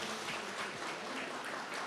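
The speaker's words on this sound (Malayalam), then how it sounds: "സന്തോഷം അറിയിച്ചുകൊണ്ട് എല്ലാവരും ഒന്ന് കൈയടിച്ചാൽ അവർക്കൊരു സമാധാനമായി." Applause from guests at an engagement ceremony: a steady, fairly faint patter of many hands clapping together, continuous throughout with no voices standing out.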